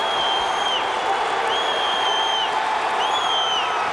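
Crowd noise at a 1992 high school football state championship game, a steady roar of fans cheering for Montague with whistles cutting through, while an announcer talks over it.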